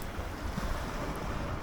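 Adriatic Sea waves along a small resort coast near Split, a steady washing surf mixed with wind rumble on the microphone, close and continuous throughout.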